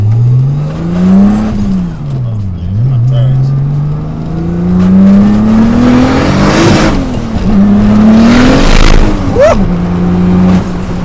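A turbocharged BMW E30 weighing about 2,800 pounds revs hard and accelerates, engine pitch climbing and dropping through gear changes, loud and close throughout the clip.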